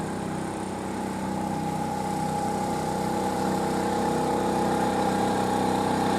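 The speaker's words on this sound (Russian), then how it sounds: "А за ним еще одна лодка." A passing motorboat engine drones continuously at moderate volume, holding an even pitch with no voices present.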